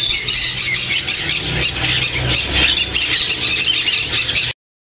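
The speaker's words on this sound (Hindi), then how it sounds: "स्विंसन लड़ी के 3 हैंड टेम बच्चे मौजूद हैं" Hand-tame Swainson's lorikeet chicks at a Sunday bird market in Bahawalpur, shrieking and squawking in a loud, dense, continuous chorus close by, with no pauses until an abrupt cut.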